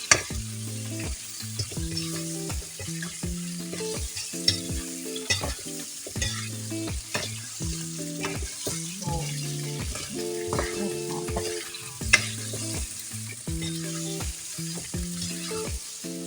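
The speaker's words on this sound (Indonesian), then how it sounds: "Kita oseng-oseng sebentar sampai si tomatnya ini setengah layu ya guys ya" Green tomatoes stir-fried in a pan with salted fish, a steady close sizzle broken by frequent rhythmic scrapes and clanks of a spatula against the pan, with no talking.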